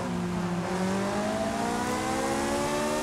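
An Acura RSX engine and exhaust on a desert road in Forza Horizon 5, droning loud and steady as the revs climb smoothly over a few seconds, with no talking.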